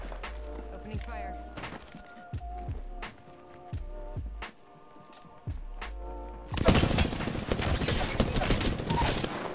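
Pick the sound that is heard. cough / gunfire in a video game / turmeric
gunfire in a video game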